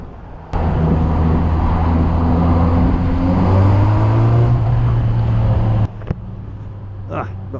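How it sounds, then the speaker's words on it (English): A Honda CB1000R motorcycle engine drones steadily while riding, its tone rising gradually under wind rush, then cutting off abruptly into quieter road sound. "see if I can hear the engine note a little bit better"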